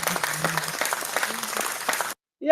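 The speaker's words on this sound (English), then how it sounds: "Let me clap for you." Applause and clapping from a crowd at a Christian gathering in support of Biafra liberation, a steady patter of many hands for about two seconds before cutting off abruptly.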